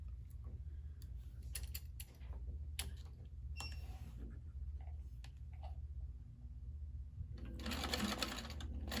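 A sewing machine stitches a fabric scrunchie, its motor humming in a steady low buzz broken by sharp mechanical clicks and taps, then a louder burst of rapid stitching near the end.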